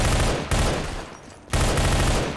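Enemy gunfire in the shooter game Entropy: Zero 2 comes as two loud, close bursts of rapid automatic fire separated by a roughly one-second lull.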